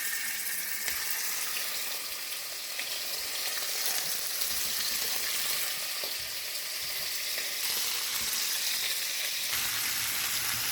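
Lamb pieces browning in olive oil in a pan for a Lancashire hotpot make a continuous close, even sizzle and crackle, with faint stirring movement and no voices.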